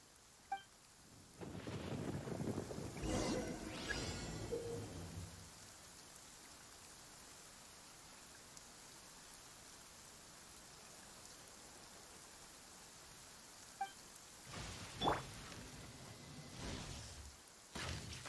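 Steady rain pours throughout a stormy scene in Genshin Impact, with a loud rolling rumble of thunder early on and another burst of thunder near the end, the downpour continuing softly in between.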